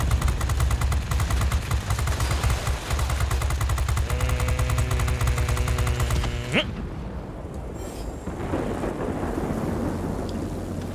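Machine guns on a P-39N-1 fighter in World of Warplanes fire in a rapid, continuous rattling burst over a droning engine and roar, then cut off abruptly, leaving a quieter rumbling background.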